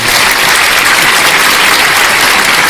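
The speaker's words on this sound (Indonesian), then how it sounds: "Tepuk tangan buat bang Damai." Dense, steady applause from an audience at a religious talk fills the whole stretch at full loudness, a continuous wash of many hands with no voices rising above it.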